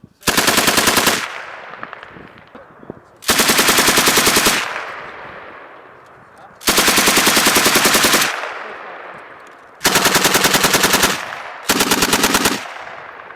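Loud machine gun bursts at a firing line during a large allied military invasion exercise in Europe's far north, five long sustained volleys of rapid fire separated by short pauses, close and dominant.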